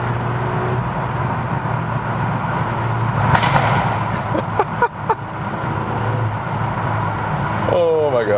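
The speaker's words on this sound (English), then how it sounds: "Now in the tunnel here. So let's put down the window and listen to that." A VW Golf R engine and exhaust boom and echo inside a road tunnel with the window down, a loud continuous rumble with sharp cracks, while a person talks over it.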